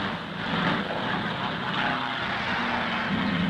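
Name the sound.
WW2 Allied warplanes flying over Italy, 1943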